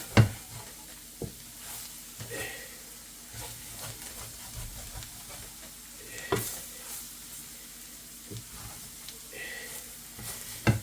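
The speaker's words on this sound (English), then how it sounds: "Just let it keep frying a little bit." Pork chops sizzle and fry in a pan with a steady hiss, occasional clinks of a utensil stirring against the pan.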